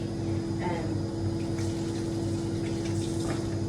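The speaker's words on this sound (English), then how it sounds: "I'm just gonna wash my hands quick." A tap runs steadily while hands are washed beneath it. The flow is a constant close rush with a faint hum and small splashes.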